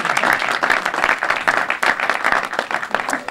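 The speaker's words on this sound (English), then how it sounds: "But let's give them a round of applause." Round of applause from an audience at a gubernatorial announcement event for the Pixomondo visual effects company in Baton Rouge, lively and dense with distinct claps pulsing through for a few seconds.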